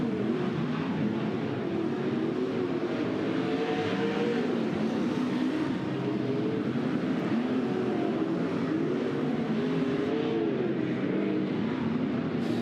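Dirt track race car engines rumble and rise in pitch during the first hot lap session at Douglas County Dirt Track, with a steady, layered drone of several motors revving through the laps at moderate distance; no talking.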